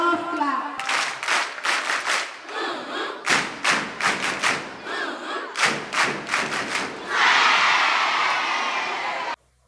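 A school crowd claps in sharp, rhythmic bursts with chanting voices between them, the synchronized claps loud and near, ending in a sustained wash of cheering and applause that cuts off abruptly.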